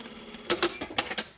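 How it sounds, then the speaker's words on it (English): A sewing machine stitching over a seam on a classic shirt yoke, with several short clattering bursts of the needle mechanism, close and moderately loud, no speech. "we'll just stitch over that seam again"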